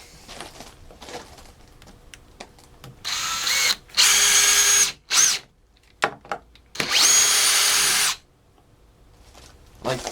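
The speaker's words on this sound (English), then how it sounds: "Now we're going to use speed 2." A DeWalt DCD796 hammer drill driver running at speed 2 in short bursts, loud whirring spurts of a few seconds each between quieter handling noises, the last long burst ending abruptly.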